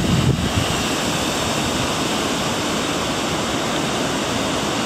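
Water pours steadily over a dam on the Quinsigamond River in Grafton, Massachusetts, a dense, constant roar close by, with no voices over it.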